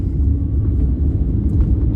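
Exhaust of a 2014 Aston Martin DB9 5.9 V12 Carbon Edition coupé, its valves adjusted to stay open at all RPMs: a deep, steady, burbling low rumble heard up close.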